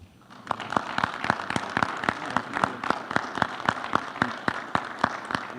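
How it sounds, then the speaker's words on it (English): A small audience at a city council meeting gives a round of applause, sounding as a fairly sparse, steady run of individual claps at close range rather than a dense roar, lasting several seconds with no talking over it. "join me in a round of applause for Mr. Luisi"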